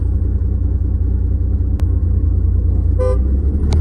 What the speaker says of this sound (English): wait for these cars to pass.